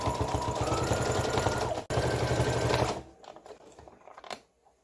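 A home sewing machine stitches a trouser hem, running as a loud, fast, even mechanical whirr for about three seconds with one short break, then slowing into scattered quieter clicks and a last burst before stopping.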